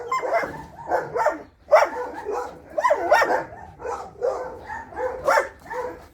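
A German shepherd barks repeatedly, close and loud, in uneven bursts of sharp barks mixed with yips and whines, with short pauses between volleys.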